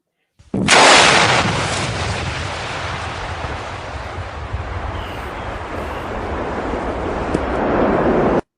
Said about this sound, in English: Those are salute rockets, by the way. That's what they mass detonated.